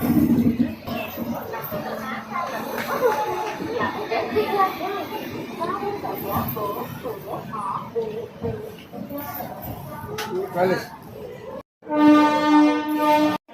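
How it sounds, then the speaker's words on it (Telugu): Busy hubbub at Secunderabad railway station with overlapping chatter and announcements, then a loud, steady train horn blast with strong harmonics near the end. "Welcome to Secunderabad railway station."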